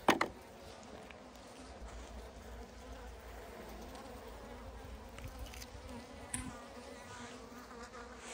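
Honeybees buzz around an open beehive full of brood and larvae, a faint, steady swarm drone with occasional louder passes of individual bees close by.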